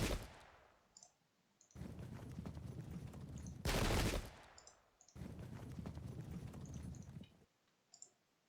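Horse hooves in the Pike and Shot video game, Polish versus Swedish battle: dense rapid clattering clicks in bursts, with a loud sharp gunfire-like blast midway and brief pauses between volleys.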